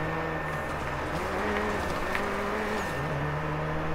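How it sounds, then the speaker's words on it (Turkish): Car engine in the Need For Speed racing game, a faint steady whine with shifting pitch as a rival car closes in from behind, heard alone under a continuous background hum. "bu arabanın sesi geliyor demek ki arkamda"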